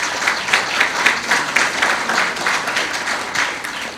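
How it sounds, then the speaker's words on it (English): Applause from an audience at a leadership talks event, a steady crowd clapping with loud rhythmic bursts, close and sustained without talk. "Can we please give them a round of applause?"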